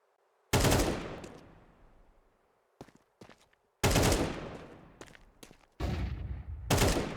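Close, loud bursts of automatic gunfire from an MP9 and an AK in a competitive video game match arrive in several separate volleys, with brief single shots between them and quiet gaps.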